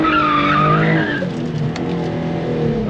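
Tires squeal steadily as a boosted Nissan 350z corners hard on a street, the skid loud and close over continuous engine noise for the whole stretch.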